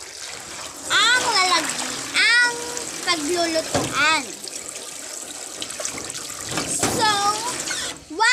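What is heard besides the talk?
washing rice grains with water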